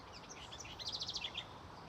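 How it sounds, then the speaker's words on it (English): Faint birds chirp and trill in the distance over a steady outdoor hiss, a quick run of high repeated notes in the middle. "Do you hear all the birds?"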